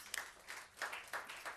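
An audience at an awards ceremony claps, a faint, fairly distant patter of several hands in a loose rhythm, with no talking over it.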